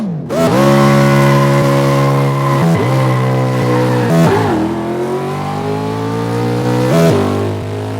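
A car engine revs hard in third gear at about 70% throttle, a loud sustained roar that climbs in pitch, dips briefly at a few shifts or lifts, then pulls again, with tire squeal mixed in.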